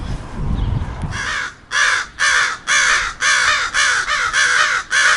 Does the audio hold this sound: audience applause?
no